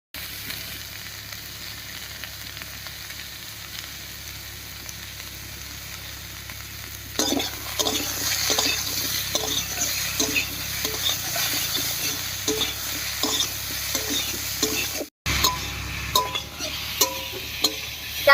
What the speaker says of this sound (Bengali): চাল কুমড়োটা একটু কষতে থাক